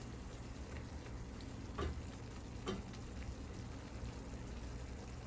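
Tomatoes and peppers with paste and oil cook down in a lidded pan for Turkish menemen, giving a steady low sizzle and bubbling throughout, with a couple of brief louder spits.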